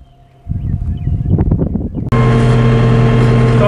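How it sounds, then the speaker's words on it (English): A farm tractor engine runs close by. A lower, rougher rumble comes first, then the engine settles abruptly into a loud, steady drone for the rest, with no talk heard. "Okay, I'm down here in the tractor."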